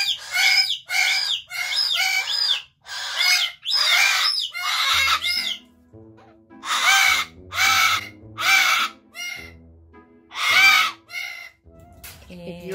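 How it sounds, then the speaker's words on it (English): A pet parrot screaming indoors, loud harsh repeated squawks in bursts, loud and close, with a person speaking briefly in between. "Bird is screaming because it is jealous."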